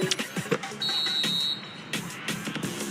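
A final buzzer sounds in the basketball video game Dunk City Dynasty: one sustained electronic tone of under a second, loud over busy game and crowd noise.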